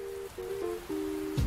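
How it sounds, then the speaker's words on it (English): Heavy rain hisses down steadily at low level beneath a few sustained melodic tones, with a soft thump near the end. "The rain is coming down so hard."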